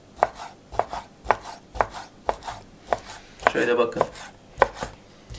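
A knife chops chicken thinly for tantuni on a cutting board, landing quick, evenly spaced sharp thuds about twice a second, with a brief scraping rustle midway and a few words spoken.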